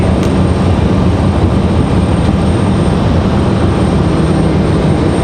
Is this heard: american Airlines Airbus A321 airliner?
yes